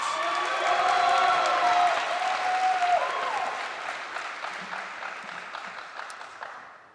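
At a December commencement ceremony, a crowd applauds graduating seniors of a sustainable resources management program with full, steady clapping and faint cheers under a fading tonal sound, then gradually tapering off.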